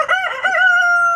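A backyard rooster crows once, a loud close cock-a-doodle-doo with a rising start and a long sustained final note, heard alone without talk.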